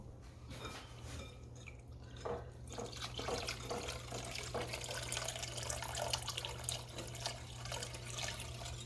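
Water pours into a liquid measuring cup while making a lemon meringue pie, a faint trickle and splash that builds into a steady fill, with a low hum underneath and no voices.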